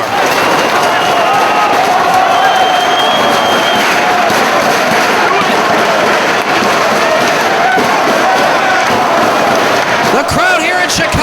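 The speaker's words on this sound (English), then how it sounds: "The crowd here in Chicago to their feet" Crowd at a Chicago wrestling match between the Briscoes and El Generico and Kevin Steen, cheering loudly and steadily throughout, a dense roar with a commentator talking over it.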